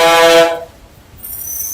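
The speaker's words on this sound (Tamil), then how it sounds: "எவ்வளவு ஹாரன் போட்டே வராங்க பாருங்களா" A loud, sustained bus horn blares for about half a second and cuts off at Villupuram's new bus stand, leaving a low background rumble with traffic noise.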